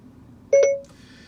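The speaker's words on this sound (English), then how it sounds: "until I hear Siri beep at me" A short, clear electronic chime of two quick tonal beeps, the Siri activation beep in a 2021 BMW 330i, sounds once in a quiet setting.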